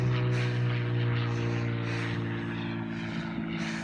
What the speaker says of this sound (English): Little prop plane.